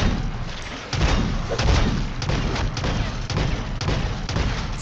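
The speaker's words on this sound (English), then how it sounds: "that's a grenade launcher" In a video game, a MORS sniper rifle fires with heavy, explosive booms like a grenade launcher, the blasts following one another roughly every half second over a thick rumbling bed of game noise.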